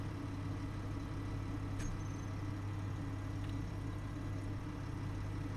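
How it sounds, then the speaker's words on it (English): A generator running steadily in a moon survival video game, a faint, constant low engine hum with a droning tonal buzz and two tiny clicks, no speech. "Generator is running"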